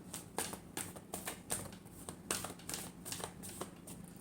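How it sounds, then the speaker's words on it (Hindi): A deck of tarot cards being shuffled by hand, a quiet, close run of crisp riffling flicks and soft slaps in an irregular rhythm, with no voices. "Last shuffle."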